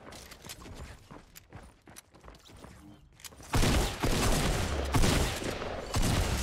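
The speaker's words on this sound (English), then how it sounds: "I shot through the window" Gunfire in the video game Fortnite, shots fired through a window: scattered clicks and mechanical sounds give way to a loud, sustained burst of rapid shooting in the second half.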